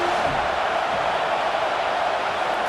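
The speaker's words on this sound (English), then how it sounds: "This crowd bringing the energy and noise early." Continuous roar of a packed stadium crowd at a USC Trojans vs. LSU Tigers college football game in EA Sports College Football 25, a dense, even wall of noise with no distinct voices standing out.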